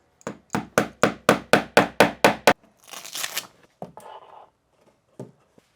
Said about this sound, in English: I'm just gonna take my nail and hammer and go ahead and hammer it in